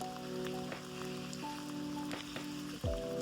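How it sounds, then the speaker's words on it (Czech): Light rain falls quietly and steadily, with scattered drops tapping close by over a faint constant hum. "je to dobře, že prší."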